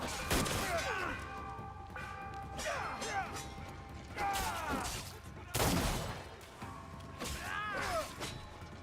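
Gunshots ring out and are deflected by a katana in Assassin's Creed Shadows, a series of sharp shots and metallic clangs with ringing, whooshing sweeps of the blade, close and loud, between stretches of voices.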